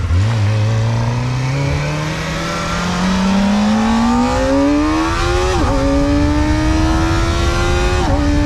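A Kawasaki ZX-4RR four-cylinder sport motorcycle accelerates hard through the gears, its engine note climbing toward a high-pitched scream with quick shifts between pulls, loud and close with no talk.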